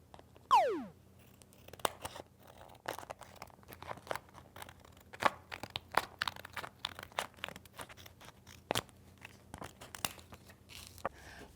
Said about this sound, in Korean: 반으로 접어서 가위로 잘라주세요.